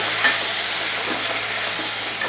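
Onions frying in a little oil in a pan are stirred, with a continuous bright sizzle and soft scraping, including one brief louder clink near the start, heard close up with no voices.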